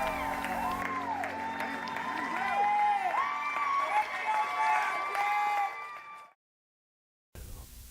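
Crowd aboard the cruise ship Quantum of the Seas cheering, whooping and clapping after a singer finishes, rising shouts and applause that cut off abruptly into silence near the end.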